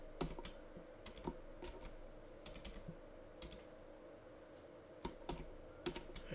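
Someone types a password on a computer keyboard, faint, quiet key clicks coming in small irregular clusters with short pauses between them.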